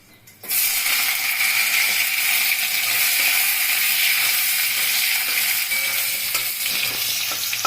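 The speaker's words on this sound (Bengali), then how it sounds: "আলুটা দিয়ে একটু নাড়াচাড়া করে নিলাম।" Potatoes frying in hot oil with black cumin seeds for a Bengali boroli fish curry, stirred in the pan: a loud, continuous close sizzle with scraping and clinking of the spatula throughout.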